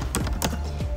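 Quick typing on a computer keyboard, a short burst of a few clicky keystrokes heard up close over about a second.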